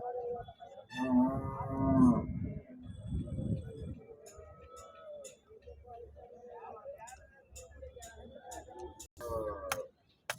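Cattle and calves low loudly near the start, deep drawn-out calls, then the scene continues with voices talking and scattered clicks and clatter of a busy weekly livestock market in Husnabad.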